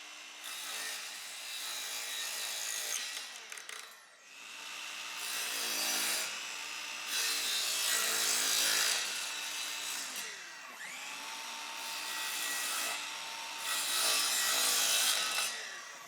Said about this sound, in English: The wooden board was cut to match the slope of the stairs.